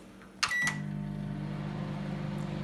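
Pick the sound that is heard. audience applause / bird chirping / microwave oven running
microwave oven running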